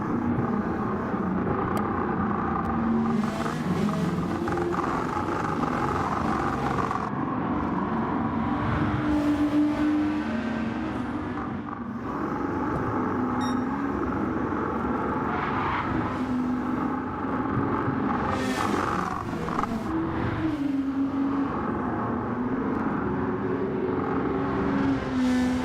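Touring cars bunched behind a safety car before a restart in a 2023 Track Stars Touring Car Series race at Kyoto, a continuous engine drone with shifting revs and gear changes, several cars close together.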